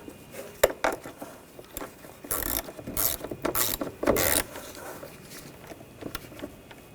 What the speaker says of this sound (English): Tighten down the nut.